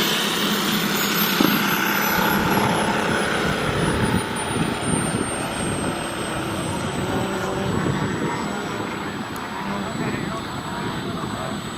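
A giant-scale RC airplane flying overhead at a Triple Tree fly-in, its engine a loud, sustained roar that slowly shifts in pitch as it passes, under crowd noise and nearby talk.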